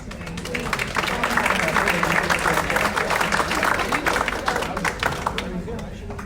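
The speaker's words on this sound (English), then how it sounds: "one more round of applause for all of our presenters today" A community-meeting audience in Coatesville gives the presenters a dense round of clapping, many hands close together, steady for several seconds before tapering at the end.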